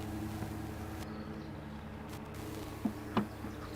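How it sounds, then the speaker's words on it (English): Honeybees buzzing at an open hive, a steady low drone of many wings with a couple of louder passes close by near the end, with no talking. "So Ted, what are the bees doing this month?"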